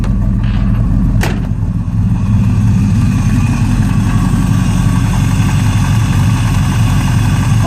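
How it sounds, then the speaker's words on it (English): A small block Chevy V8 swapped into a Nissan D21 truck idles loudly and steadily up close, a continuous deep rumbling drone while its carburetor is being tuned, with no talking. "Let's see if I could make the idle a little richer."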